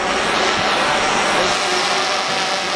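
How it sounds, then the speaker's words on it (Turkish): A drone flies just outside an apartment window, its dense, whirring buzz loud and continuous, close by and steady throughout with no voices. "drone'la şimdi teyzenin camının üzerinde uçuyoruz"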